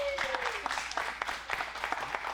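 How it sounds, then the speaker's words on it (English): Audience applause for sponsors at a real estate flipping event, dense steady clapping from a crowd lasting the whole moment, with a brief cheer or voice near the start. "Let's give them a round of applause too"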